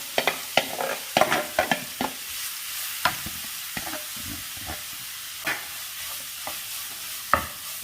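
Grated carrot sautéed in ghee over a medium flame for carrot semiya payasam, a soft steady sizzle broken by close, irregular scraping and tapping stirs of a spoon, busier at first then sparser.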